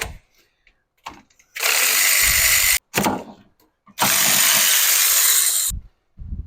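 A worn ratchet wrench with sockets, its detent ball missing, used on a Toyota RAV4 during transmission removal; bursts of rapid mechanical clicking and whirring come in two long runs separated by brief knocks and near-silent gaps, close up.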